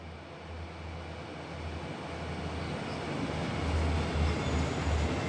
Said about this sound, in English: Oh, it's the westbound auto-rack train.